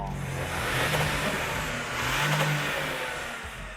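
A Toyota GR Yaris H2 hydrogen combustion engine, a 1.6-litre three-cylinder, revs steadily with a rising and falling roar, loud and close, with no talking.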